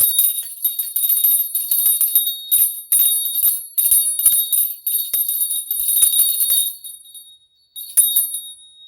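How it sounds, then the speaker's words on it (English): A small bell rings repeatedly in quick bright bursts, a shimmering high metallic jingle that rings on with brief pauses, then stops and returns once near the end. "Ding it out with the bell."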